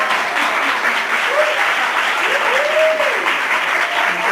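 A crowd at a university symposium applauds in a dense, continuous wash of clapping that stays loud and even from start to finish, with a faint vocal sound rising briefly in the middle.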